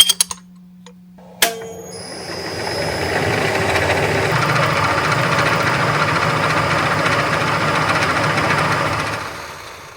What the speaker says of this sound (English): there's a bit more machining that needs to be done to this front wallet section